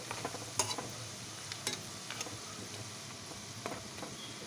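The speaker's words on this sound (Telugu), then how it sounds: "ఈ విధంగా మనం తీసుకున్న ముక్కలన్నిటిని కొంచెం కొంచెం వేసుకుంటూ వేయించుకోవాలి" Chicken pieces fry in oil for a homemade chicken pickle, a steady low sizzle broken by occasional sharp scrapes and clinks of a spatula in the pan, fairly quiet and with no voices.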